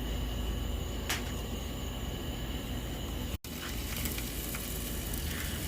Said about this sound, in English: So first, we're gonna add this butter.